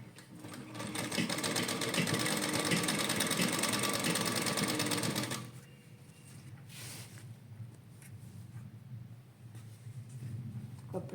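Loud, close sewing machine stitching fabric with a lace cuff, running in a continuous rapid whir for about five seconds, then stopping, leaving quieter room noise and handling sounds.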